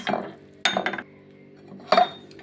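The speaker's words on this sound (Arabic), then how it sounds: "لسه فاضل شويه ادوب الخميره خالص" A utensil stirs yeast in a bowl to dissolve it, giving a few close clinking, scraping strokes against the bowl with brief pauses between them.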